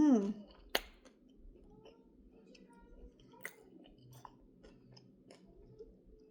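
Crunching of Miss Vickie's spicy dill pickle kettle chips, close, sharp bites followed by steady chewing, with quiet mouth sounds and no talk.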